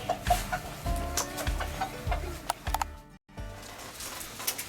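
Chickens cluck in short, repeated bursts close by on a farm, with soft rustling and brief pauses between the calls.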